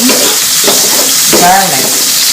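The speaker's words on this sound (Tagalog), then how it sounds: "we're going to saute our red onions" Red onions saute in a pan for a stir-fried T-bone steak with vegetables, giving a steady loud sizzle with stirring scrapes throughout.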